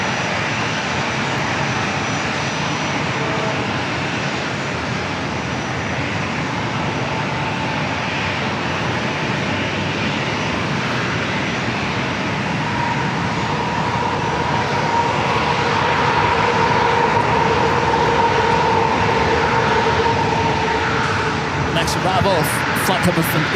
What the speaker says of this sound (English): Flight coming from Indianapolis, Indiana, Southwest Airlines flight 1190A, 737-700.